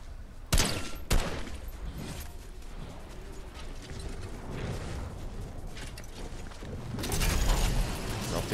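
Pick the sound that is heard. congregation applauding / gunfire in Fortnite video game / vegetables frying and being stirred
gunfire in Fortnite video game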